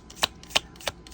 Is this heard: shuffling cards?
yes